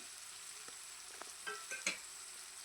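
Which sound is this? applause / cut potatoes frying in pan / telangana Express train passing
cut potatoes frying in pan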